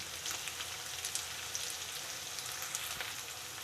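Curry leaves and turmeric sizzle in hot oil in a home kitchen pan for an aloo mutter kasuri methi curry, giving a steady close crackle with scattered sharper pops and no talking.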